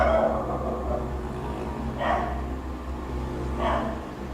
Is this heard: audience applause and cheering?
no